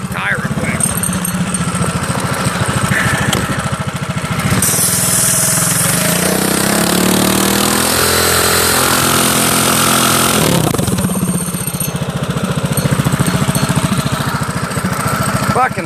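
A Predator 212 engine on a minibike runs loud and close, a choppy, rapid putter that swells into a higher revving drone mid-stretch before settling back, with a person talking over it.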